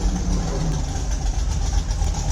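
Classic car engine idling at a Memorial Day parade in St. Marys, Pennsylvania, a steady low rumble with a slight knock, close and continuous with no pauses.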